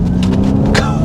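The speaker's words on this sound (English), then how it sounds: "propulsion sound, it gives it that kind of almost Porsche Taycan sound" Ford Mustang Mach-E GT electric SUV emitting its synthetic propulsion sound, a steady low hum with a whirring tone, loud and close throughout a short burst of acceleration.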